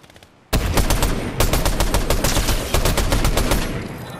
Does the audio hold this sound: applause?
no